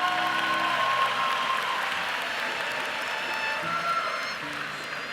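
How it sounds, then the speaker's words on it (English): Sustained applause from a commencement audience greets the Department of Human and Organizational Learning, a broad even wash of clapping with a brief voice at the start and near the end, fading slightly at the close. "Please give a round of applause for the Department of Human and Organizational Learning"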